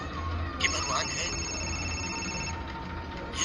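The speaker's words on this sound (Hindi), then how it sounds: "ये शिखर फोन कर रहा है" A telephone rings for an incoming call in a Hindi film scene, a steady electronic tone holding for about two seconds over a busy, murmuring background.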